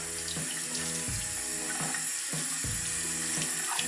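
A makeup brush is rinsed under a running tap at a sink, with a loud, steady stream of water and periodic splashy surges as the brush moves through the flow.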